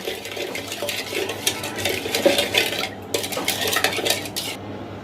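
Warm milk with yeast, sugar and salt being stirred in a bowl, giving a steady run of close scraping and clinking from a spoon against the bowl, with no talking.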